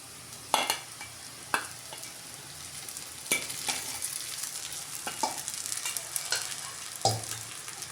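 Sabudana sago pearls being sautéed in a pan over a low flame, with a soft, continuous sizzle broken by occasional sharp scrapes and taps of a spatula stirring the pan.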